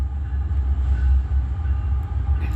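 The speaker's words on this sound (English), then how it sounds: "Less than 10 minutes ago, another train crossing path." A deep, steady rumble of a train rolling past nearby, heavy low drone with faint wheel clatter throughout.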